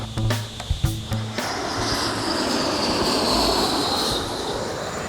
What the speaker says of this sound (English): watch the planes come in real low as they're about to land at LaGuardia